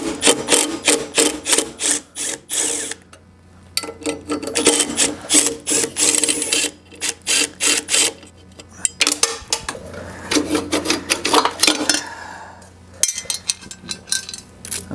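A small wrench works the bolts loose to free the muffler from a curbside leaf vacuum that won't start. Close, repeated metallic clicks, rasps and scrapes come in bursts with brief pauses, and no one speaks.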